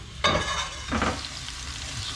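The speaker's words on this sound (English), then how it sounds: "I'm going to add the onions and chilli into it now. And you can hear straight away that it's sizzling." Onions and chilli hit hot olive oil in a pan with a sharp onset of loud, steady sizzling and frying, and a stirring scrape follows partway through.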